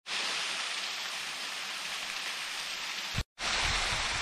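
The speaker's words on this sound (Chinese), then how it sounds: "这个是纯自然形成的一个瀑布" A naturally formed waterfall at the Hehuo scenic area roars as a dense, steady rush of falling water, loud and continuous with a brief cut near the end.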